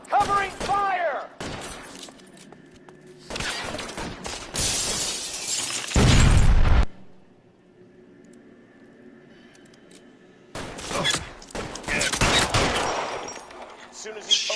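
Gunfire in a shootout from the video game LA Noire, sharp shattering bursts of shots in several loud clusters separated by quieter gaps, with voices speaking in between.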